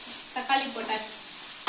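Tomatoes frying in a pan as they are stirred, giving a steady bright sizzle with a few soft stirring scrapes and a sharp knock at the end.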